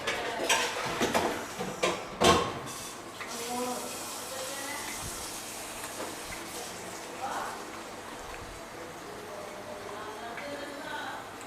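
Biryani masala is stirred in a pot, with metallic clatter and scraping for the first few seconds before settling into a low, faint background with quiet voices.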